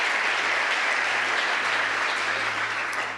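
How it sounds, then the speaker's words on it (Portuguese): A church congregation bursts into loud, sustained applause for Jesus, a dense wash of many hands clapping together that tapers slightly at the end. "Os que podem dar a Jesus uma linda salva de palmas"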